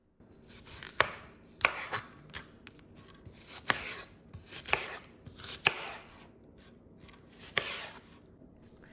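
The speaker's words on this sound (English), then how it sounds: "we're going to chop up some of the larger tomatoes, cut them in half, and then we're going to peel our red onion and then just cut it into nice wedges" A knife chops tomatoes and red onion on a cutting board, a series of crisp, close, evenly spaced strokes about once every second with no talking.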